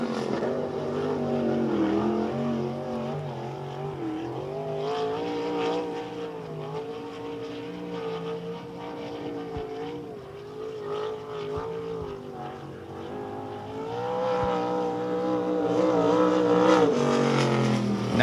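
A dirt track race car at Devil's Bowl Speedway roars through a qualifying lap, its engine holding a loud, steady snarl that dips and swells as it works through the turns, then climbs into a harder rev near the finish.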